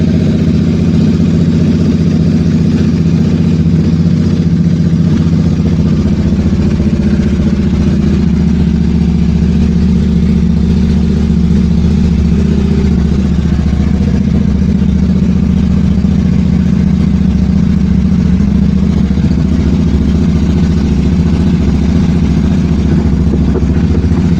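A Bajaj Dominar 400 motorcycle fitted with an SC Project exhaust runs close and loud for the whole stretch, a deep steady engine rumble with subtle swells of revving and no talk.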